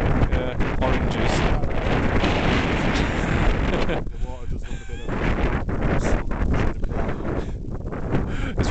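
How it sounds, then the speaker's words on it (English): Strong wind buffets the microphone in a constant roaring rush, with a voice briefly audible partway through. "It's very windy here, I'm not sure any of this will come out."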